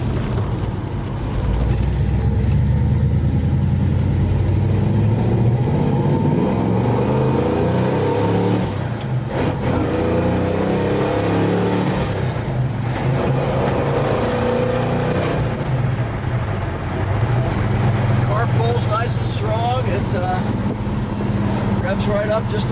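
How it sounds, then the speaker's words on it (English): A 1966 Plymouth Belvedere V8 engine idles with a deep, steady rumble, then revs up in loud swelling bursts, close and continuous, while someone talks over it. "Revs right up just the way it's supposed to."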